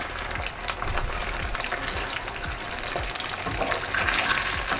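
Garlic pork roast browning in a hot pan, a continuous loud sizzle and crackle of frying meat with occasional stirring scrapes and low thumps as pieces are turned, no voices.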